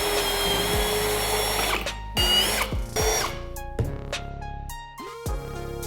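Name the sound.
drill driving pocket holes in wooden desk boards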